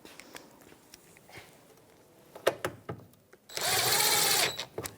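A power tool with a 10mm socket drives the tail light mounting bolts on a 2013-2018 Toyota RAV4, one loud, close whirring burst of about a second following a few light clicks and handling noises.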